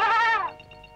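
A single goat bleats once, a loud, wavering close-range cry lasting about half a second before fading into faint background tone.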